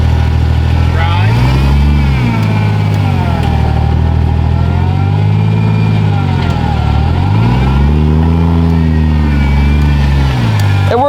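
A BMW with an N54 engine and swapped 8HP50 automatic pulls away in drive, the engine note rising and falling through smooth shifts, loud and close, with voices talking over it.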